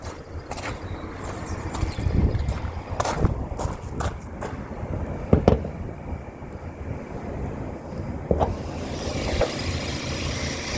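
An older-shape Mazda MX-5 sport spec with a 2 litre engine idles quietly with the bonnet up, giving a steady low hum through outdoor wind noise, broken by a few sharp clicks and knocks.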